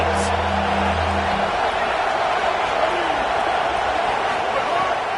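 A dense, steady roar from a stadium crowd in a College Football 27 rivalry game between Texas A&M and LSU fills the whole stretch, loud and continuous, with a brief low tone near the start.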